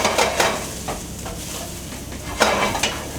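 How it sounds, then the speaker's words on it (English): Paprika and turmeric spices get stirred in a sizzling pan, with a few scraping strokes over a steady frying hiss. "quick stir"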